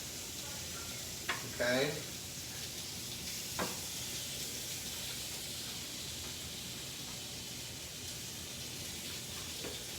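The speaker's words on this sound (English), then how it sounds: "You're going to transfer them right onto the skillet." Small pieces of slow-cooked corned beef land in a hot skillet and fry with a steady, faint sizzle and hiss, a few brief scrapes and clinks on top, and a voice briefly speaking over it.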